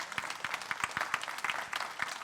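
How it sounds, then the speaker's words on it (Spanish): A church congregation applauds together, brisk dense clapping with distinct individual claps, fairly even in loudness over a couple of seconds. "¿Cuántos dan un aplauso al Señor por eso?"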